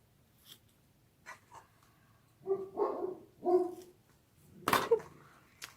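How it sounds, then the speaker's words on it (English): A pet dog indoors barks at someone walking past the house: a few soft scattered taps, then three close, full barks in quick succession and a sharper final bark, with no talking. "My dog barking."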